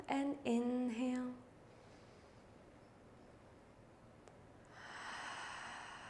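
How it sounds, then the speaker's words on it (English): Slow breathing during a gentle beginner shoulder workout for hypermobile Ehlers-Danlos: a voiced, sighing exhale up front, a quiet pause, then a soft, airy inhale near the end, close and alone. "Exhale and inhale."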